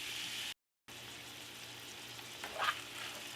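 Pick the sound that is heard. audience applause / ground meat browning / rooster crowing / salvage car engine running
ground meat browning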